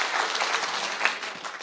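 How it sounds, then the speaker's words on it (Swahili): A crowd at a county security forum attended by a cabinet secretary claps loudly and steadily in an honorary round of applause, dense and close throughout, with a few faint voices mixed in. "Makofi ya heshima."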